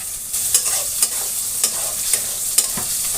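Onion, cumin, ginger and garlic pastes sizzle steadily in a pan for potato dum, with a spoon tapping and scraping at regular intervals, close and even throughout.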